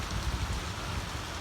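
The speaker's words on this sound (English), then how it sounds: "and a tropical storm, and then hail down twice." Steady heavy rain pouring down during a tropical storm in the wilderness, a dense continuous hiss close by with no voices.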